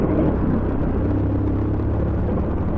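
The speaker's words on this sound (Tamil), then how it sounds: "இதில் என்னங்க இவ்வளோ டிராஃபிக் ஆகுது." Busy road traffic in Saudi Arabia, a dense continuous low rumble of passing cars held at a steady level throughout, with no talking.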